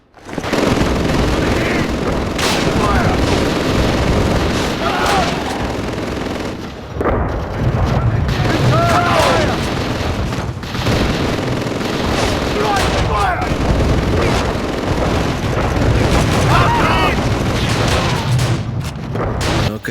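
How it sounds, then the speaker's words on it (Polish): Machine gun fire in the PSP war game Call of Duty: Roads to Victory, bursts of rapid shots and booms running loudly and continuously over a dense battle din for about twenty seconds. "No i tak, słychać karabin maszynowy."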